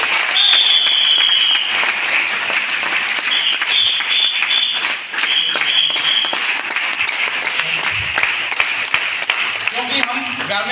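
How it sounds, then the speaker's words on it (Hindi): Loud, sustained applause from an audience at a business seminar, a thick continuous roar of clapping lasting several seconds, with whistles or cheers cutting through on top. "उन सब शक्तियों के एक बार जोरदार तालियां बजाओ।"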